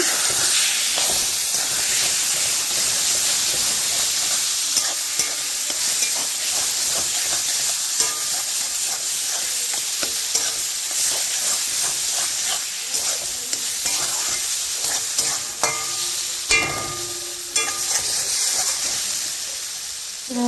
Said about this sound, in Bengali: এখন বেগুন ঢেলে দেবো, সব ম্যাশ করা বেগুন সব ঢেলে দেবো, দিয়ে গুটে নেব একটু।